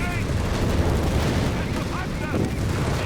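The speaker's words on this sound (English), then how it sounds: "Starstorm being absolutely bombarded." Artillery bombardment in the World War II strategy game Company of Heroes 3: a dense, continuous rumble of shell impacts and gunfire under steady commentary.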